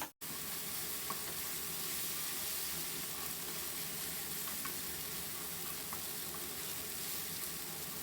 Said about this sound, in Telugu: మనకు ఆనియన్స్ అనేది ఇలా బాగా కలర్ చేంజ్ అయ్యే వరకు కూడా ఫ్రై అవ్వాలి.